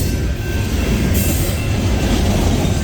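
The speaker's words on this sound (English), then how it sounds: "CSX C780 on the old mainline subdivision." A CSX C780 freight train rolls past on the old B&O mainline subdivision, a loud, close, continuous rumble of wheels and rail clatter with a thin squeal riding on top, steady throughout.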